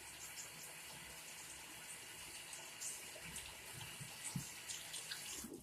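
Tap water runs steadily from a faucet while plastic toys are washed, a constant close hiss of flowing water with occasional faint knocks and splashes of handling.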